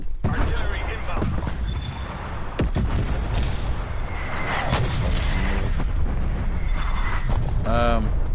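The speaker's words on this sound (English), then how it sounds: "Hostile artillery targeting active. Oh yeah. Artillery inbound." Artillery strike explosions hit in Black Ops Cold War, loud booming blasts and crackling gunfire in a dense, sustained barrage, with sharp impacts near the start and middle and a voice talking over it.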